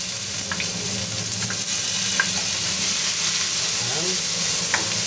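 Garlic and onion sizzle steadily in a hot pan, with a loud continuous frying hiss and faint scraping as they are stirred.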